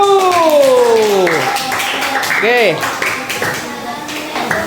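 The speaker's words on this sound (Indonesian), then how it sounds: "tepuk tangan untuk kelompok 1" Classmates clap for group 1 in a school lesson, a short burst of hand claps under a teacher's voice, with falling whistle-like tones and other talk around.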